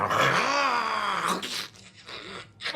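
A man imitates a dog with a drawn-out, rough growl that swells and fades over a couple of seconds, close and loud, followed by quieter vocal grunts.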